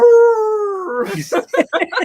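A person's voice imitates a dog's howl, a drawn-out wavering tone that breaks into a few short yelping bursts, close and fairly loud.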